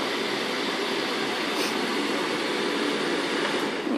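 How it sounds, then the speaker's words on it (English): A Hotpoint TCHL73 condenser tumble dryer runs with a steady, even broadband whir and hum, close and constant, with no knocking or other variation. "So you can hear the noise as that's running. So it's about an average noise, I'd say, for a tumble dryer."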